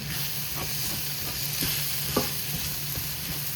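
Idiyappam noodles tossed in a pan with egg, carrot and leeks: a spatula scrapes and taps rhythmically against the pan over a steady background sizzle, with one sharper knock midway.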